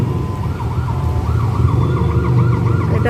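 An ambulance siren wails in a rising-and-falling pattern, arriving at a road accident scene in Malaysia, growing slightly louder over a low traffic rumble; no talking.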